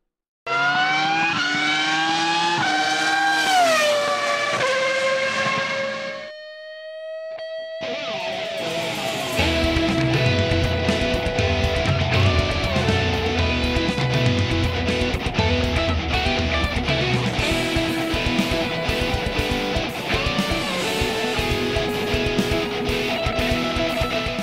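Slot cars, GT3 models including a Corvette C7 NSR, Mercedes AMG and Lamborghini, race on a track: a rising electric whine climbs in pitch, briefly drops, then several cars buzz and rattle steadily close by.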